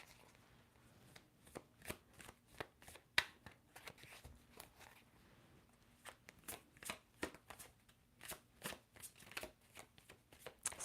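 Cards riffle and snap in repeated quick bursts, close and quiet, shuffled over and over with short pauses between.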